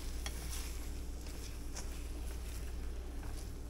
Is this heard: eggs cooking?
yes